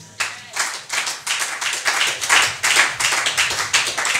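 A church congregation claps and applauds the Lord, a dense, continuous patter of many hands building steadily and staying loud throughout.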